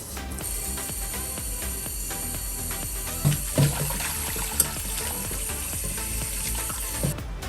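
An iron wok is scrubbed with soap and water, giving continuous wet scraping and trickling, with occasional sharper metallic knocks and clatters close by.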